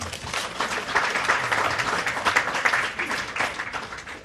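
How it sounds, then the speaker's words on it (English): Audience at an evening app launch and art exhibition applauding, a dense wash of many hands clapping at moderate distance, sustained for several seconds with slight swells. "Please give them a round of applause."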